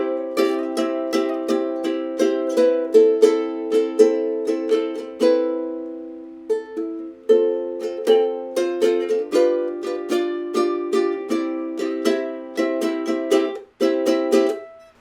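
A thin-toned ukulele is played alone in a demonstration, with bright plucked notes and strummed chords in a steady rhythm that pause briefly midway before continuing.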